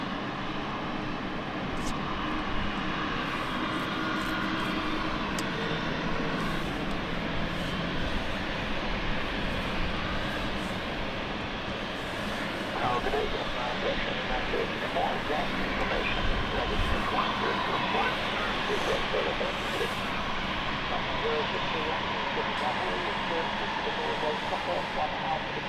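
A British Airways airliner landing at London City Airport roars steadily and broadly for the whole stretch, a loud continuous engine rush that swells slightly midway, with people talking faintly underneath.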